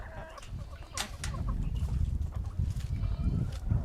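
Two small hens cluck in short bursts close by on a homestead, over a steady low rumble of outdoor noise.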